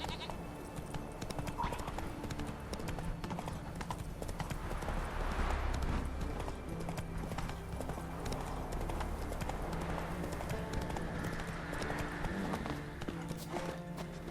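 Hooves of Roach, the horse in The Witcher 3, clip-clop in a steady trotting rhythm throughout, close and clear over a busy game backdrop with faint bleating livestock and ambient noise.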